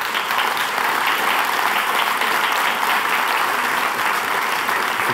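At a Swiss thesis-presentation contest awards ceremony, the audience applauds a state councillor welcoming her on stage, a full, steady roar of clapping from many hands sustained from start to finish.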